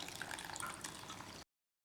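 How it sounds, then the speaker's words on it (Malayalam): Water is poured into a container of soaked rice and flattened rice before grinding, a soft, fairly quiet trickling splash lasting just over a second before cutting off. "ഇനി നമുക്ക് ഇത് അരയ്ക്കാൻ ആവശ്യമുള്ളത്ര വെള്ളം ചേർക്കാം."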